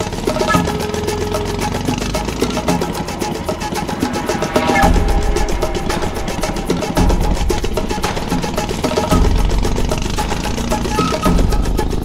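A boat engine on a river runs steadily throughout at a close, loud level, a continuous mechanical drone with some rumbling low end and busy background noise.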